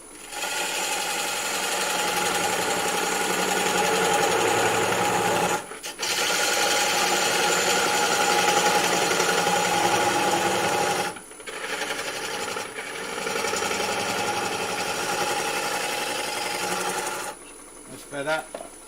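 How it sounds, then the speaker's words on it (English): A bowl gouge cuts wood on a lathe in a steady, loud scraping hiss that runs in long passes, broken by two brief pauses and a shorter burst near the end. "let me just clear a bit of wood down with a bowl gouge"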